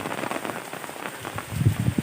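First rain of the season falling over a rural village, a steady patter of drops that swells slightly louder toward the end, with no voices.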